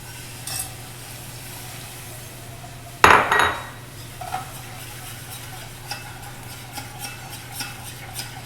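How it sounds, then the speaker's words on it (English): Brisk stirring in a cooking pot of a flour-and-milk sauce for papoutsakia, with a sharp utensil clatter against the pot partway through, then lighter intermittent scraping over a steady low kitchen hum. "stir very well, very fast, and then add 1 cup milk"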